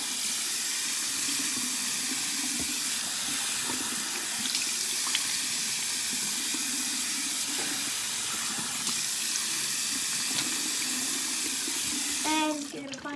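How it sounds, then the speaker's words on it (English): A tap runs into a bathroom sink as cold water is splashed on a face to remove makeup, a steady close hiss of flowing water with soft splashes throughout. "Now you're gonna take your face, wash it off. Make sure it's cold water."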